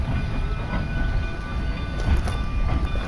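A train rolls past on the railroad, a continuous loud rumble with faint clickety-clack of the cars and brief high tones, heard without talk.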